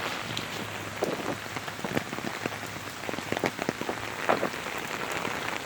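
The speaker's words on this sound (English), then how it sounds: "but it was raining pretty heavy." Steady rain patters on surfaces outdoors during a walk, a dense continuous hiss with scattered louder drops close by and no talking.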